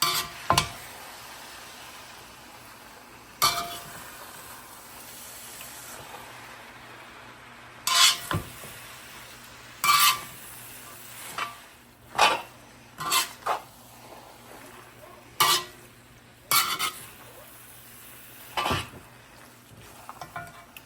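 Drained noodles tossed in sauce in a pan, with a string of sharp utensil clacks and stirring scrapes against the pan at irregular intervals over a quiet background hiss.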